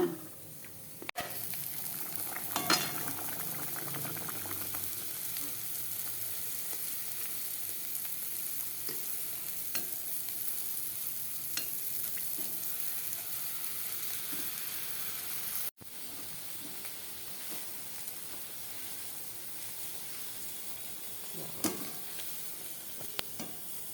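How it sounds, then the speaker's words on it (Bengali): Curry bubbling and cooking in a pot in a home kitchen, a continuous low sizzling hiss with occasional pops and a brief clunk, quiet and without speech. "এটা আবার কেমন ফুটছে মনে তরকারিটা"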